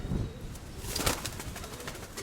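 A steel-colored white-tailed pigeon coos softly in a loft, a low, rolling call with a brief flutter of wings, faint and close against quiet background hiss.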